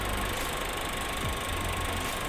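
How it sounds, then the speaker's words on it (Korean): A Volkswagen Jetta 1.4 TSI, seventh generation, idles with the engine bay open, giving a steady, even hum with a faint whine on top. The sound carries on without a break and no one speaks. "엔진 소리 일정하네요"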